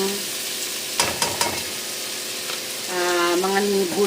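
Tomatoes and chayote sauté in a pan with a low, steady sizzle, broken by a few clinks of a utensil stirring. A voice speaks briefly over the cooking near the end.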